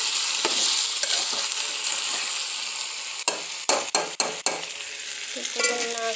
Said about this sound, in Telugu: బాగా మనకి మసాలాలు ఇవన్నీ పట్టేసేటట్టు తిప్పుకోవాలి